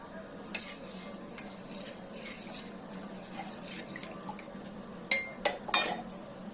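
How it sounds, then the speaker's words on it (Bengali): Buttermilk for kadhi being stirred in a pot: a quiet, soft swirl with light scrapes, and a few louder clinks of a utensil against metal near the end; no talking. "দিয়ে আমরা ভালো করে এটাকে নাড়িয়ে নেব"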